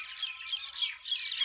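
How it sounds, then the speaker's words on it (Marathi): Dense, continuous chirping and tweeting from several birds, including mynas, high and bright, overlapping without pause. No voices are heard. "हे पक्षी पहा, हे किलबिलीट,"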